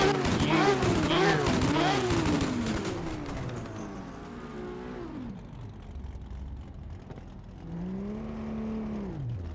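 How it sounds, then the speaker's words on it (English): A car engine revving hard during a drift, loud from the start with rising and falling pitch sweeps. Someone talks over it throughout, and the engine fades briefly before surging again near the end. "Engine sound, and I'm talking over engine sound."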